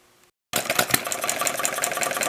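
A fairly early Coles model hit-and-miss engine, its fuel mixture not quite right, bursts into life after a brief silence and runs at close range with a fast, steady mechanical chatter.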